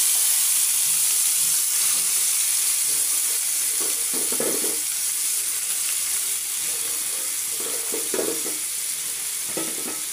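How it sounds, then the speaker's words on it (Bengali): Onion, chili, garlic and coriander leaves sizzle steadily in hot oil in a wok, a continuous loud frying hiss with occasional stirring scrapes and no voices. "পেঁয়াজ, মরিচ, রসুন, ধনিয়া পাতা নিয়েছি। এখন এগুলোকে আমি ভাজতে দিব"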